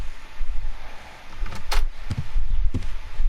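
The front door opens in the video game Sherlock Holmes: Crimes and Punishments, with a few close, distinct knocks and a brief scraping rush as it moves, over a low, steady room ambience.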